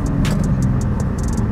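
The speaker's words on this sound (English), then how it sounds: "after I installed the active Autowerke mid pipe on my M2 competition, I think the car is a little bit louder on the higher RPM" A BMW M2 Competition fitted with Active Autowerke mid pipes revs loudly at high RPM with a deep, continuous engine roar. A rapid series of crackling pops and bangs runs through it, heard close up.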